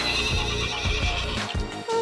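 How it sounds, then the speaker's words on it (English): A horse in a video game whinnies loudly while hooves clip-clop in a quick galloping rhythm, close and clear against the game's background sound. "Watch that horse go."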